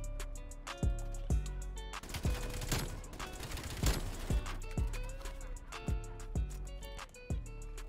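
PPSh-41 submachine gun from Call of Duty Cold War firing in short and longer bursts, sharp rapid cracks with metallic clinks between volleys, close and loud.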